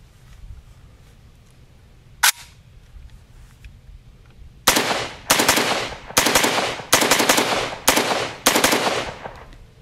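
An AK rifle in 5.45 fitted with a Hogue grip fires a single shot, then a loud series of about six close, evenly spaced rounds with sharp reports and short echoing tails.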